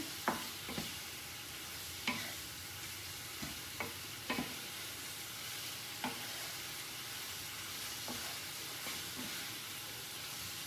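Buffalo beef and potatoes cooking in a skillet give a steady soft sizzle and hiss, broken by occasional light scrapes and clicks of stirring, fairly faint and close, with no talking.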